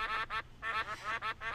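Cartoonish duck quacks serve as a cursor sound effect in a Mac app, four or five rapid nasal quacks repeating closely in a steady rhythm, loud and near, with no talking.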